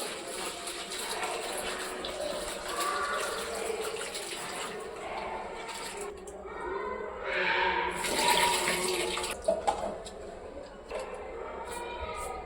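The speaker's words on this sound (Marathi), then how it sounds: "मी 1 वाटीसारखे पोहे घेतले आहे। त्याला मी वॉश करून घेते आहे।" Running water splashes and swirls close by as poha (flattened rice) is washed for a matar cutlet recipe, the rinsing swelling and fading over several seconds with a few light clinks.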